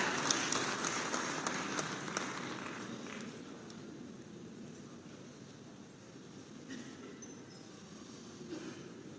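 An audience claps at a public ceremony in Jharsuguda, with the clapping fairly faint and distant, strongest at first and then fading into a low room murmur.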